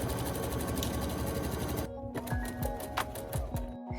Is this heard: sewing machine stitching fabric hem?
yes